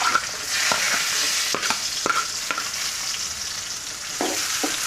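Onions frying in hot oil for beef sukka, a loud, continuous hissing sizzle with scattered clinks and scrapes of a stirring spoon, heard up close without voices.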